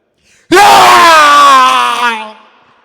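A voice imitates a loud, bitter cry: one long, strained wail at full volume that slowly falls in pitch and fades away.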